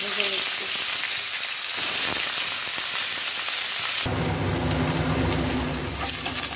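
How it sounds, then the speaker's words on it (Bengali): Two pieces of hilsa fish frying in mustard oil in a kadai, with a loud, continuous sizzle that shifts in tone partway through. The sound stays close and steady throughout. "মাছটা ভেজে নিচ্ছি।"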